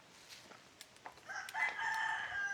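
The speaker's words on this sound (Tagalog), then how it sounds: "Dahil yung manok, lumalapit." A rooster crows at an outdoor overnight camping spot, a drawn-out, fairly loud call rising after a few scattered clucks and rustles, with a chicken coming closer.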